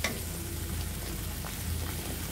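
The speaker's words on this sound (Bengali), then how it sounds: "এখন হলুদ আর লঙ্কার গুঁড়ো আমরা দিয়ে দিব। এখানে ভালোভাবে কষিয়ে নিতে হবে।" Turmeric and chili powder fry in a pan for an aloo dum with taro, giving a steady, close, even sizzle that continues without a break and with no voices.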